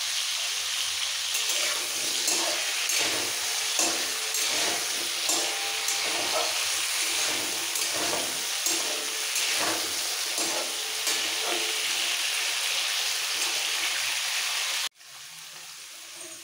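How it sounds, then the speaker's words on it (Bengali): Papaya stems fry in hot oil with a steady, dense sizzle and crackle and occasional stirring, running continuously before cutting off abruptly near the end. "পেঁপে ডাঁটা ভাজা হয়ে গেছে,"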